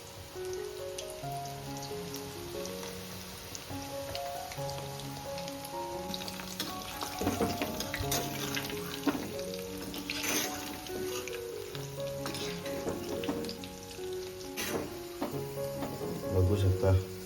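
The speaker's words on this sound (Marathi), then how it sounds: "भजी फ्राय करताना कधी पण तेल पूर्णपणे गरम करायचं." Corn bhaji fritters frying in hot oil, a dense steady sizzle like rain with occasional stirring clatter, close and moderately loud, with faint voices at times.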